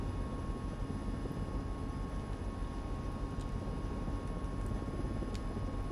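Mi-17 helicopter in Microsoft Flight Simulator, a steady, dense rotor and turbine drone holding at even loudness throughout with no talk, a faint whine riding above the broad rumble.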